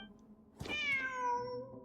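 A cat in the Genshin Impact video game gives a single drawn-out meow with a falling pitch. It is clear and close over a quiet game background, and no one speaks.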